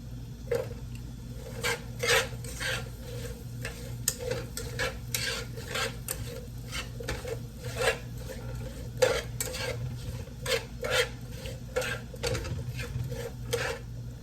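Red and orange peppers go into a pan for veggie pasta, with repeated clinks and scrapes of a utensil stirring against the pan over a low sizzle, close and irregular, no talking.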